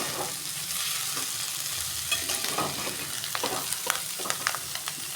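Masala bhindi (okra) stirred in a pan with the gas just switched off, giving a steady soft sizzle under scattered scraping and clinking taps across the whole stretch, no voices.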